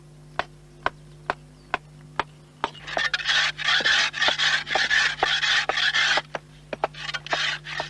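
A scythe blade scraping and shaping a wooden stake: after several sharp isolated ticks, repeated rasping scrape strokes come in a regular rhythm, close and moderately loud, with no talking.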